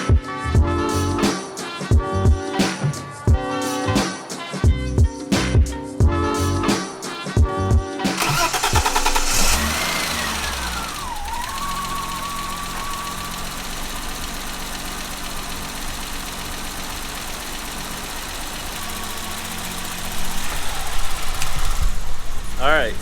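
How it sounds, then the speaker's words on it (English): A BMW E30 engine cranks and fires after the intake is refitted, then settles into a steady, choppy rough idle that runs loud and close for the rest of the clip, with a brief rise in level near the end. "so the car is idling. There's no check engine or anything like that on the dash. The idle still sounds choppy."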